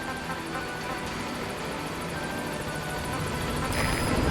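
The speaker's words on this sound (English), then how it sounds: "Support helicopter has arrived." A support helicopter in Metal Gear Solid V arrives with a loud, continuous rotor roar and engine whine that builds slightly toward the end, while game radio chatter plays faintly beneath it.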